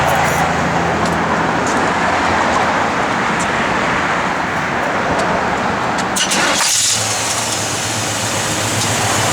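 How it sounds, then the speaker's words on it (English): The small-block V8 of a 1969 Chevrolet Camaro SS convertible runs steadily at idle, a loud, close, continuous rumble with a brief shift in tone partway through. "Good running small block, guys."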